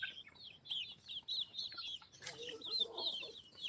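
Desi village chickens cluck and chatter on a farm, soft overlapping calls repeating at a moderate distance, with a brief brighter burst of squawking partway through.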